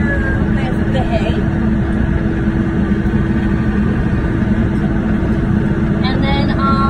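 A tractor engine runs steadily and loudly while being driven to a hay shed on a cattle farm, a constant low rumble throughout with a person talking over it.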